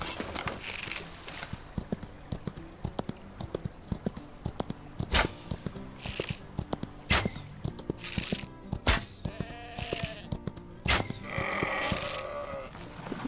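Sheep bleat in a Wild West survival game, with repeated short sharp hits and clatter between calls, a few hoof-like clops and some louder bursts near the end, all close and fairly loud with no talking.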